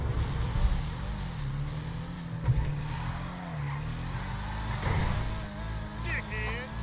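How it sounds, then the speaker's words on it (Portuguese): A car engine in GTA V labours and drones unevenly as it struggles to engage a gear, the pitch wavering up and down, with game sounds and a few brief clicks in the background. "O carro não quer engatar a marcha."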